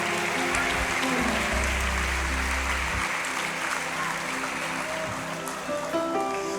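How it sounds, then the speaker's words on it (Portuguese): A church congregation claps in praise of Jesus during a Portuguese-language service: steady broad applause, with sustained low organ or keyboard tones underneath. "Vocês dão uma salva de palmas para Jesus?"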